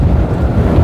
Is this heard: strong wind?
yes